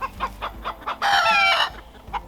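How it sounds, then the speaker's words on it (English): Clucking from a flock of hens and a tiny gray rooster in a backyard coop, close by, with short repeated clucks and a louder drawn-out squawking call in the middle. "this little tiny gray rooster is Foot Rooster, because he's always by my foot"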